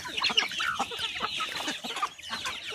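A group of chickens, hens and chicks, cluck and squabble over fish guts on open ground under coconut trees, a busy close cluster of overlapping clucks and squawks with no talking.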